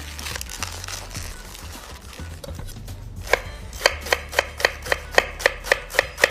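A knife chops rainbow Swiss chard leaves that are stacked and rolled for a fine chiffonade on a cutting board. Close, crisp cuts fall in a steady rhythm of about a dozen strokes in the second half, after quieter handling sounds.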